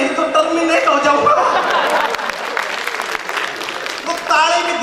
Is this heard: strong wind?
no